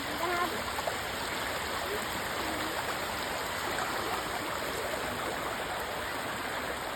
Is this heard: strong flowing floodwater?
yes